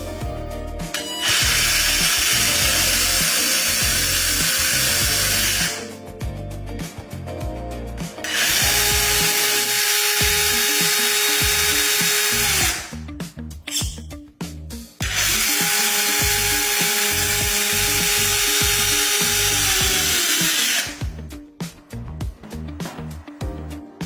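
A 1/14 scale Tamiya RC truck's three-speed gearbox runs with a loud, even mechanical whir, stopping and restarting in bursts as it shifts between gears, the pitch settling differently after each change.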